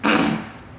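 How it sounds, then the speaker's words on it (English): A single short, rough throat clearing, close and fairly loud, fading out quickly. "as I clear my throat"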